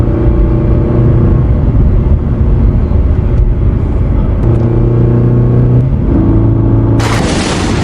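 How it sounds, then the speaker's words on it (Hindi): Cartoon sound effect of a merchant's car driving into a village: a loud, steady engine-like rumble with tonal hum runs throughout, ending in a brighter burst near the end, with no talking. "तभी एक व्यापारी अपनी गाड़ी से गांव में आ जाता है।"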